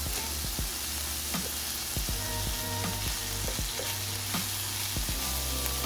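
Bacon sizzles steadily in a pan for a frittata, with a constant crackling hiss broken by scattered pops and occasional scraping of a utensil, close and alone without talk.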